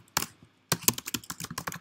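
Someone types code on a computer keyboard, giving a short burst of clicks, a pause, then a steady run of about a dozen crisp, close keystrokes with no talking.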